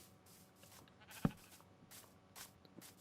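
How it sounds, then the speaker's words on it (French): A few soft, distant sheep bleats in a quiet Minecraft game setting, with one sharp click-like tap partway through. "il y a des moutons qui ont spawn."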